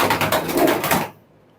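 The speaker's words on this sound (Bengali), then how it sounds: "এই জায়গায় তো অনেকগুলো কবুতর দেখতে পাচ্ছি" Pigeons in a loft of Pakistani racing birds give off a dense, close, steady flutter of cooing and wing rustle that cuts off abruptly after about a second, leaving near silence.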